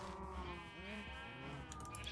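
Sheep bleating in the Minecraft video game, several wavering bleats layered over a steady game background, with a faint voice underneath.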